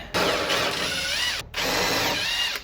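Power tool running on 11mm nuts inside the rear hatch of a Ford Edge, two loud whirring bursts of a drill or impact driver with a brief pause between, close and alone.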